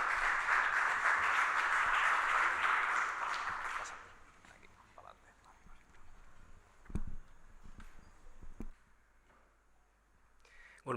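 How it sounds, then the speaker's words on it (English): Audience at a sports tech startup showcase claps for presenter Josep, a dense burst for about four seconds that then cuts off, followed by quiet room sounds, a few knocks and shuffles. "A big applause for Josep"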